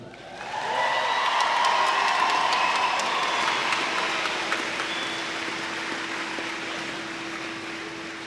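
Commencement crowd at Dubuque Senior High School applauding, a dense, sustained wash of clapping that swells quickly and holds at a loud, steady level, with some cheering mixed in.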